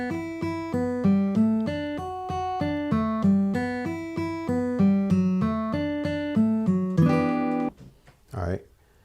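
Guitar arpeggios from a song, a steady run of picked chord tones in even rhythm, played close and alone for about seven seconds before a short burst of speech at the end.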